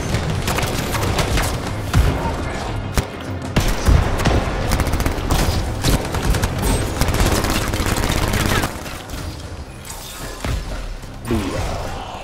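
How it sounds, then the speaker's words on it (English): Rapid machine pistol fire in the space combat game Freelancer, dense sustained bursts of gunfire with booms and impacts running almost continuously, loud and close. "Back to that machine pistol,"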